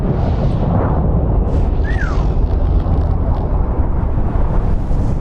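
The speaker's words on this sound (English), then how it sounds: "There goes the explosion." In the video game Subnautica, a reactor explosion rolls out as a loud sustained low rumble filling the whole clip, with a brief rising-falling electronic tone near the two-second mark.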